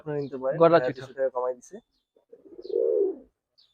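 Someone talks briefly, then a Pallah line pigeon gives one soft, rolling coo close by, fading out in the quiet that follows.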